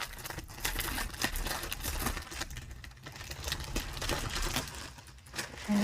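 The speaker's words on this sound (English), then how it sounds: "Apologies for the crinkly noise." Crinkly plastic packaging from a diamond painting craft haul being unpacked up close, a continuous busy rustle and crackle of wrapping with no talk.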